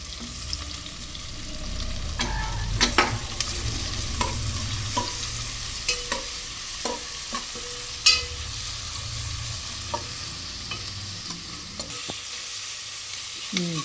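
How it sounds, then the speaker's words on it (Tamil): Shallots frying in a pan for mutton biryani give a continuous close sizzle, with irregular scraping and tapping of a spoon as they are stirred, plus one sharper clank midway. "வெங்காயம் நல்லா இப்படி நல்லா வணங்கணும்"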